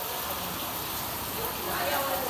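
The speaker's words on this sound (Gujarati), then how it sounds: "જો ભાઈ જો વરસાદ" Heavy monsoon rain pours down in a dense, continuous hiss that swells slightly toward the end.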